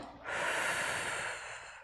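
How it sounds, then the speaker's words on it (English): A person breathing in and out during a slow stretching exercise, a single soft, airy breath that swells quickly and fades over a couple of seconds, close and quiet. "Breathe in and breathing out."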